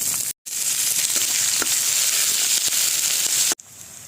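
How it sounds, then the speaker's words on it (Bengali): Ghetkol stalks fry in oil with five-spice, dried red chilli, garlic, chopped onion and green chilli, a loud, steady sizzle with small crackles, broken by two brief silences. "প্রথমে ঘেটকুলে ডাটাটা ভেজে নেব"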